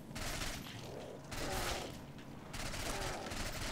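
Rapid automatic gunfire from the Badger weapon in a zombie custom map video game, dense bursts of shots in two to three sustained volleys, loud and continuous.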